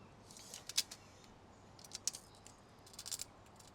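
A piece of lead sheet cut with snips makes a few faint, crisp snipping clicks in small clusters against a quiet room background.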